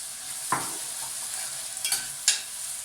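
Something fries in a pan until translucent for a spaghetti Bolognese, with a low steady sizzle broken by three brief scraping strokes of a spoon stirring; no voices.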